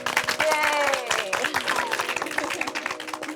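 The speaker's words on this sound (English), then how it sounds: "you all deserve a huge round of applause" A studio audience breaks into a steady round of applause for competing artists after an art challenge, dense clapping sustained throughout with voices mixed in.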